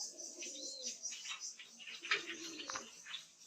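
Racer pigeons and their chicks in cages at a pigeon farm coo softly in short, uneven murmurs, faint and somewhat distant, with light chirps mixed in.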